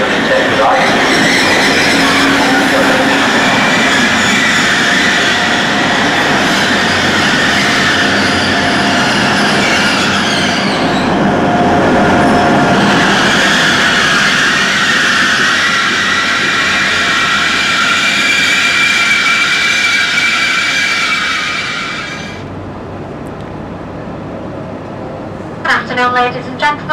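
Interior of a slightly late-running First Hull Trains service to London King's Cross, with a steady loud rumble and broadband roar that drops away near the end, while a voice announcement plays over it.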